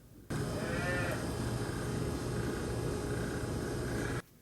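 Hungry baby calves in a maternity area bellow in one loud, sustained cry lasting about four seconds, close by, with no talking.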